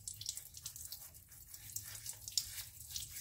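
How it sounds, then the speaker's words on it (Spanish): Tap water runs steadily from a faucet while a plaster mold is washed under it with a squirt of detergent and a brush, a faint continuous hiss with small splashy fluctuations. "le echo un chorrito de detergente, un pincel y bajo la canilla para que la espora se moje y no vuele"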